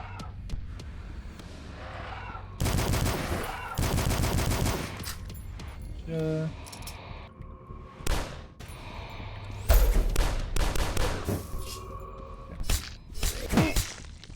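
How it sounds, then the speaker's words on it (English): Enemy gunfire in the game Till Dawn, several loud rapid bursts of automatic fire around the middle, followed by scattered sharp single shots and impacts, with other game effects between volleys. "he was able to shoot at me from behind"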